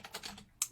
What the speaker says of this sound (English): and you just keep on typing.